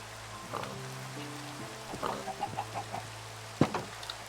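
Chickens cluck in a Minecraft game farm, giving a few short, close clucks and bursts of chatter over a steady droning background, with one louder clucking outburst near the end.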